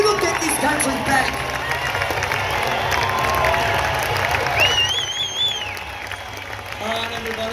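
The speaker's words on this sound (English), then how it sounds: "keep the round of applause going" Sustained applause and cheering from a large outdoor political rally crowd in Melbourne, steady and dense throughout with whistles and shouts rising above the clapping; no individual speech stands out.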